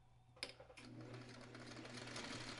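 A sewing machine stitches a quilt block, starting with a few sharp clicks before settling into a steady, quiet whirring hum that briefly dips near the end, faint and close with no talking.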